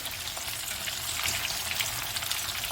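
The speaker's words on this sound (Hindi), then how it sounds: "ये मैं मछली फ्राई करके निकाल लूँ, फिर बताती हूँ कि मैं क्या करने वाली हूँ।" Fish frying in hot oil in a pan, a dense, steady crackling sizzle heard close and fairly loud throughout, with no talking.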